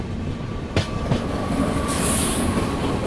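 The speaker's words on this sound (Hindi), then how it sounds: "मेरा अंदाज़ा सही निकला, ये है मालवा सुपरफास्ट एक्सप्रेस" The Malwa Superfast Express, running from Shri Mata Vaishno Devi Katra to Dr. Ambedkar Nagar, rumbles steadily past up close, with wheel clatter and a rising high-pitched squeal.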